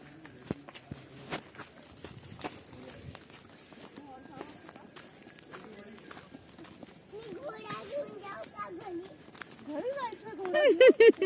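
Horse hooves clip-clop at a walking pace during a ride on a horse farm, steady and moderately near, with people talking and a voice over them.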